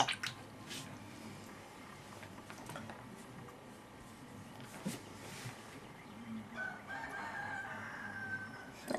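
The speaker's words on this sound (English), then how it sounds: "That rooster is crazy." Rooster crowing faintly in the distance over a steady background hiss, with light nearby handling sounds.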